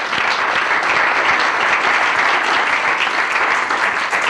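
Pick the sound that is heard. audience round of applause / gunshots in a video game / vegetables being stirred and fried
audience round of applause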